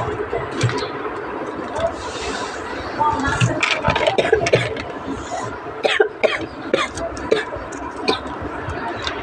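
A young child coughs several times in a home setting while someone prepares to feed her, short harsh bursts scattered through the clip over steady background noise and some nearby talk.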